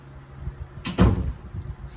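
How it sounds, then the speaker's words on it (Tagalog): A door is closed in a clinical room before a patient catheterization procedure: a quick swish and then a solid, close thud, over quiet room tone. "So, sarado ko lang po ang pinto."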